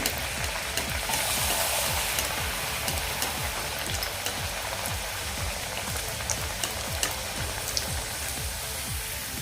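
Kombdi vade dough frying in hot oil for a Malvani-style meal, with a steady, dense sizzle and crackle that continues evenly throughout without any talking.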